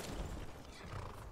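A horse in the video game Skyrim gives a quiet, short neigh set against dense game sound that includes faint hoof clatter. The horse stays soft and partly masked throughout.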